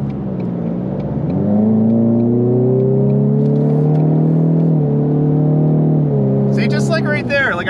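A car accelerates hard onto a highway in drag mode with aggressive transmission shifts. The engine drone climbs steadily in pitch, dips briefly at a shift, then pulls again, loud and close throughout.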